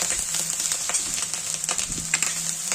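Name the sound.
wheat being stir-roasted in a pan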